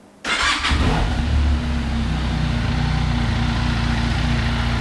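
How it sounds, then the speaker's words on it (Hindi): QJ Motor SRT 500X twin-cylinder motorcycle engine firing up with a sharp start and brief rev, then settling into a steady, close, throbbing idle through the exhaust. "डुअल सिलेंडर पूरी आबोताब के साथ अपने आवाज़ निकालता हुआ।"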